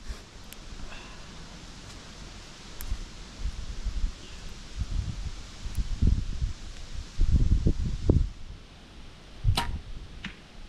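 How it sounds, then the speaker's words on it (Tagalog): Strong wind blows outdoors during a hunting outing, a steady wash of rustling leaves with gusty low rumbles building in waves toward the end and a few faint sharp ticks, no voices. "Lakas kasi nang hangin."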